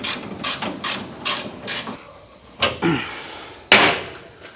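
A ratchet tightens nylock nuts on the suspension of an FJ55 Land Cruiser: a quick run of close metallic clicks, then a pause and three sharper, louder clanks near the end.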